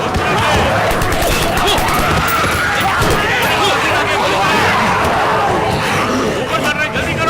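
Rapid bursts of gunfire crackle through a noisy, chaotic scene with shouting voices and constant background commotion.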